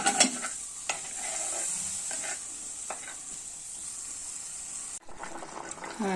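A pot of mackerel chilli curry with fish pieces and kudampuli simmering steadily, a continuous bubbling hiss with a few stirring scrapes, close and fairly soft, with the texture shifting briefly near the end.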